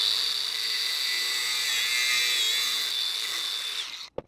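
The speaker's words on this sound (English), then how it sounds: "The other drawback to using an angle grinder, although that was pretty easy, is it makes a mess." An angle grinder cuts through a rubber oil hose, a loud continuous high-pitched whine that holds steady for about four seconds, then spins down and stops abruptly with a brief clunk.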